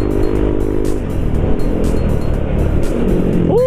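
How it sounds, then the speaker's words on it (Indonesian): A Yamaha NMAX scooter engine whines loud and close on a busy road, its pitch climbing then dropping as it revs hard, with other traffic passing and a brief squeal at the end. "kita tes nostalgia dulu gua balapan di sini men."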